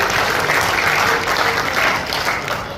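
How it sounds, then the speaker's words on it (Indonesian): Steady, dense applause from a church congregation during a sermon at a regional convention, continuous and fairly loud throughout with no voices standing out. "Beri tepuk tangan buat Tuhan Yesus luar biasa."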